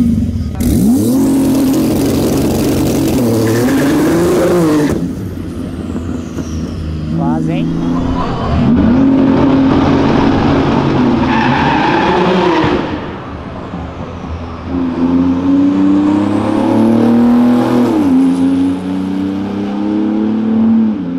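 A 750-horsepower Porsche accelerates hard in repeated loud bursts, the engine note climbing and falling through gears, very close, with people talking in between.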